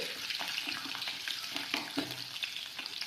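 Garlic frying in a pan for a Kerala pickle masala gives a steady, close sizzle with soft scraping and clicking as it is stirred throughout.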